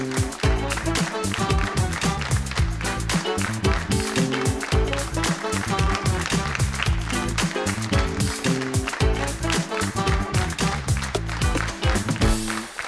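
Sustained studio audience applause greeting the host of the Armenian late-night talk show Ners Ari, a dense, loud, continuous clapping that fills the whole stretch with a hint of music beneath.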